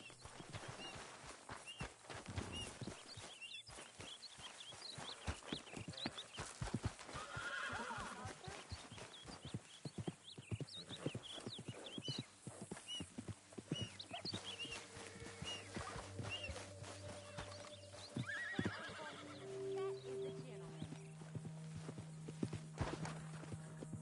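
In Red Dead Redemption 2, a horse whinnies and snorts amid steady clip-clopping hooves, with a low ambient hum underneath and a few more whinnies toward the end.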